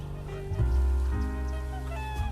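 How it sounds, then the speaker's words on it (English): Clucking, fowl-like bird calls from the video game Cities: Skylines, steady and fairly loud, with no one talking. "Am I hearing the birds?"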